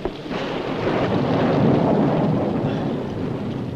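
A sudden thunderstorm rolls through with a broad, sustained roar of rain and rumbling thunder, swelling in the middle and easing slightly toward the end, with no voices.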